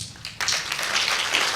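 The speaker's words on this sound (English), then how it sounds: "welcome to the stage, the round of applause, Karim Helmi." Applause breaks out suddenly as a science presenter is welcomed onstage at a FameLab final, a bright, close burst of steady clapping after a brief lull.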